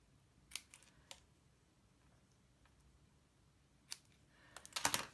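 Scissors trim a strip of paper in a quiet room, giving a few sharp, isolated snips early on, then a quick cluster of crisp cuts near the end, with near-silence between them.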